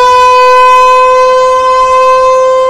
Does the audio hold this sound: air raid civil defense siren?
yes